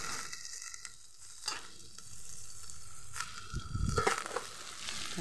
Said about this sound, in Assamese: মই তিতা কেৰেলাখিনি ধুনীয়াকৈ ভাজি ল'ম।